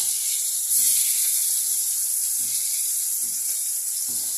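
Constant bright sizzle of meat frying in oil, close and loud, with a few soft bubbling pops spaced through it.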